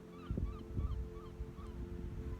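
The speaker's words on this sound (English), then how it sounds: "Can you hear the seagulls?" Several faint seagull calls repeat in the distance along the Cleveland Way coastal path over a steady low rumble of wind and water.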